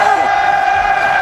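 A large esports arena crowd at a Dota match chants and roars in a sustained, loud, unified swell, with a steady droning texture filling the hall.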